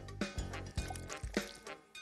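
Water poured into a bowl of oatmeal in a Sesame Street cooking video game, heard as a few short splashy, drippy liquid bursts in quick succession, clear and close with no talk.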